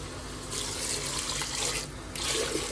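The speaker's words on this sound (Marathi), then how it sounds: "आता आपण याच्यात पाणी टाकून घेऊया" Water is poured into a pressure cooker holding trotter soup ingredients, a close, steady splashing stream in two bursts separated by a brief lull.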